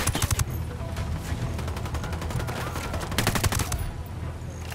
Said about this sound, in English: The Sicarios are shooting the hell out of this.